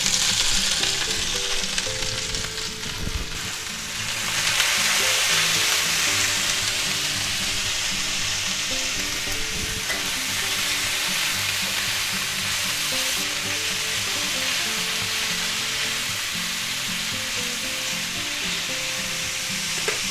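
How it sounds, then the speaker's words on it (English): Peppers and onions stir-fry in a hot oiled pan, a loud continuous sizzle with stirring scrapes, while low background music plays throughout. "while our pan's real nice and hot, let's put a little more oil in the pan. And we'll put in all our vegetables."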